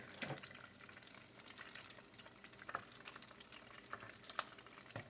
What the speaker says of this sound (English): So now we're just doing the egg rolls in the deep fryer.